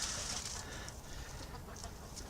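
Young, still-small chickens kept apart from the bigger roosters cluck softly in their pen. Sparse, faint calls sit over a low, steady background, with a few sharper chirps near the start and toward the end.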